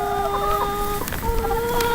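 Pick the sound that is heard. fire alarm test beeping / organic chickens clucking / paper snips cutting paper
organic chickens clucking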